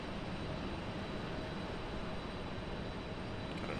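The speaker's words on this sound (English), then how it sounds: "Finally, this Embraer's getting a move on." Embraer jet taxiing at Raleigh-Durham International Airport, a steady engine rumble and hiss that stays level throughout without voices.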